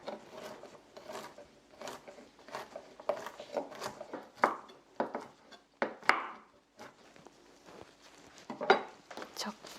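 Knife chopping halved walnuts on a cutting board, a steady run of quick close taps and knocks throughout, with speech tagged in the background.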